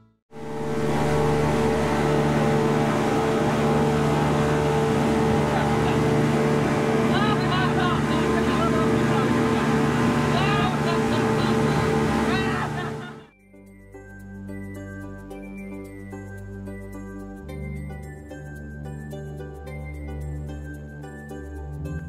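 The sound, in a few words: boat ride back to Pattaya ferry pier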